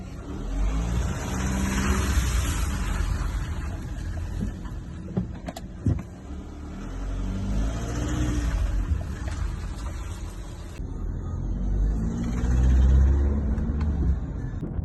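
Diesel VW Passat (US-market) idling or driving with burnt copper sealing rings under the injectors, giving a steady engine drone with broadband rasping and a few sharp ticks, fairly loud and continuous with no talk.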